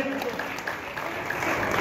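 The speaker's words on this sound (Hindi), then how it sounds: "एक बार जोरदार तालियों से स्वागत करें।" Applause welcoming an INLD political leader at a party workers' gathering in a Jhajjar office, a steady dense clapping wash heard up close from a packed room.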